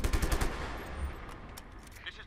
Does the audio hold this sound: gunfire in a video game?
yes